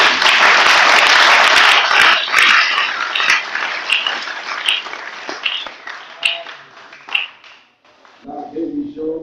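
Church congregation applauding at a French-language sermon, loud dense clapping that thins into scattered claps and fades, with a voice speaking near the end.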